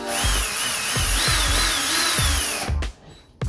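A power drill bores a small pilot hole for a door stopper, a steady high whine of the motor running for a few seconds up close, then cutting off abruptly.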